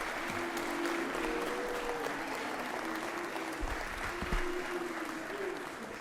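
A chamber full of Georgia state senators and guests applauds steadily for a senator at the closing session, broad sustained clapping with faint murmurs and a voice briefly underneath.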